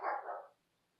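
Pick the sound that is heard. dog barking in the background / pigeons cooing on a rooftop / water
dog barking in the background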